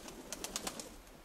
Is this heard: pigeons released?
yes